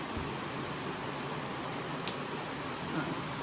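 Steady, soft rain hiss with faint scattered drops on the Appalachian Trail, continuous and even throughout, no voices.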